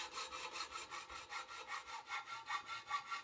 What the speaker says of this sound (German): Auch beim ersten Ansägen des Aluminiumprofils hilft der Winkel dabei, den Schnitt gerade und rechtwinklig auszuführen.